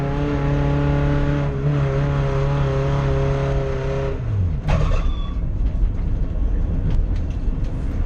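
A Honda Civic with a D16Y7 engine running hard on a track before failing, a loud steady high engine drone for about four seconds that drops in pitch and breaks into rough rattling noise.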